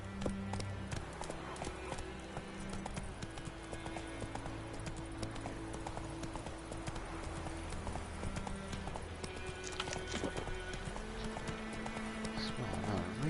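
Steady clip-clop of the horse Roach's hooves galloping in The Witcher video game, loud and continuous throughout, with a faint horse whinny and game sounds layered underneath.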